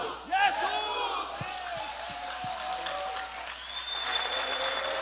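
A church congregation shouts in unison and applauds the Lord, loud crowd voices and clapping filling the hall with a few sharp individual claps standing out.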